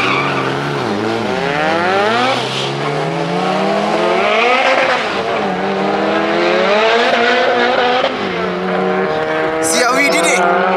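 A race car launching off the line, its engine revving hard through rising and falling pitch sweeps as it pulls away, loud and close with a brief tire squeal near the end.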